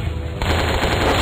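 A heavy weapon fires a loud, rapid burst of automatic shots in the video game Sift Renegade 3, sharp and close, with no talk over it.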